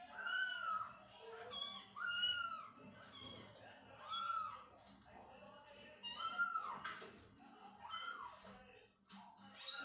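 A kitten meows repeatedly in high, thin cries, about seven of them spaced across the clip, fairly close, with faint background hum.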